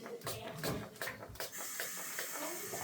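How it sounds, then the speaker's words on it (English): Several short hissing spray bursts in quick succession from a trigger bottle of bathroom cleaner onto the inside of a shower curtain, close by, followed by softer rustling. "I'm just going to spray here on the inside."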